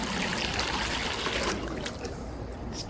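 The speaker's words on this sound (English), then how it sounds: "Look at that water pressure." Water gushing from a cordless handheld pool vacuum's outlet, a strong steady pouring stream that drops slightly in level halfway through and continues as a softer trickle.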